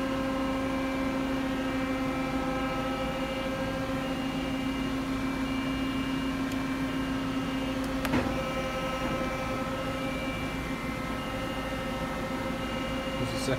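A Mori Seiki SL-65 CNC turning center lathe runs in first gear with a steady mechanical drone and a strong sustained hum, joined by one brief clank partway through. The machine sounds continuous and close.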